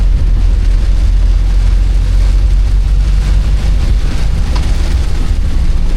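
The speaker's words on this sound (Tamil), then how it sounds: "மழை ஆ செமையாக அடிச்சிக்கிட்டு இருக்கு" Heavy, unbroken rain pours in the Netherlands, a loud, steady wash of noise with a low rumble underneath and no voices.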